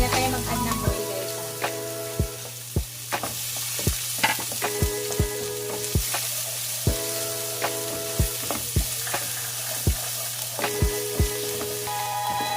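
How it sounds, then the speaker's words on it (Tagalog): Garlic sizzling in a pan without added oil while making fried rice for breakfast, a steady fry broken by repeated sharp stirring clanks of a utensil against the pan, close up with no talking. "So, ilagay na natin yung ating bawang."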